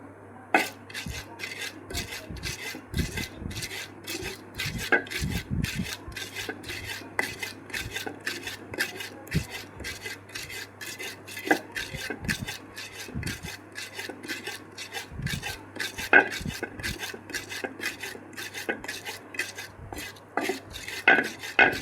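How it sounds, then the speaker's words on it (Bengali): Chili and onion being ground on a traditional batna grinding stone: continuous rough rasping and rubbing strokes, steady and close, with sharp scraping clicks repeating throughout and no talking. "আজকে আমি বাটনায় বাটাবাটি করবো"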